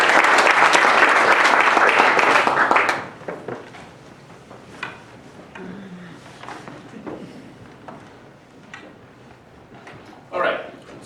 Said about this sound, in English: So round of applause for Michael.